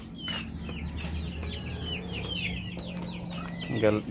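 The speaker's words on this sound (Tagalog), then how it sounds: "Kaya ayos na ayos ito mga ka-chicken. Mga sisiw." Free-range chickens and chicks cluck and cheep continuously outdoors, with a busy chorus of small peeps and clucks over a steady low background hum.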